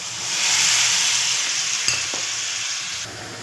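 Bengali tangy fish curry with ginger and cumin paste, just after tamarind water is poured in, gives a loud broad hiss of bubbling and sizzling that fades slightly toward the end, with a brief knock midway; no voices.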